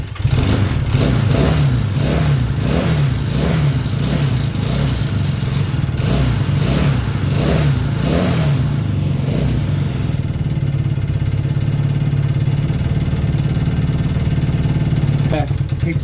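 A Honda CB200 or Yamaha YBR Custom motorcycle engine runs loudly and continuously with the choke off, struggling to hold an idle, with a throbbing pulse in the first half before settling into a steadier drone.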